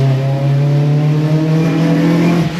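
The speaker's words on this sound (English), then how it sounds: "Oh, that VTEC crossover. Yeah, that is insane." Honda Civic Type R fitted with a DIY intake revving hard, a loud sustained engine drone whose pitch climbs steadily through the VTEC crossover, heard close from inside the car.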